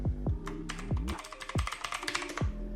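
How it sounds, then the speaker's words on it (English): Rapid clicking keystrokes on a computer keyboard as a password is entered, close and fairly quiet, with irregular bursts of taps over a low background hum. "Let me type my password."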